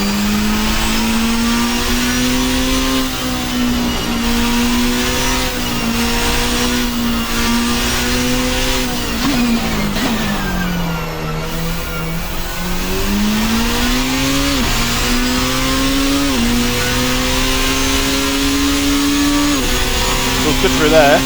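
A race car in a driving video game laps the track, its engine note rising and falling through repeated gear shifts, with a dip and climb midway, continuous and loud throughout.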